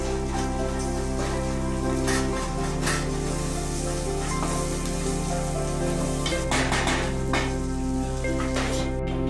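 Ginger garlic paste sizzles in hot oil in a pan while chicken curry is being made: a loud, continuous crackling fry that stays steady from start to finish over a low background hum.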